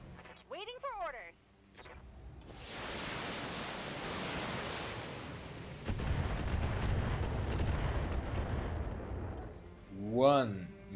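Missile and weapon fire in the BattleTech video game: a long roaring barrage of blasts and rumbling impacts rolls on for several seconds, with short synthetic sweeps at the start and end.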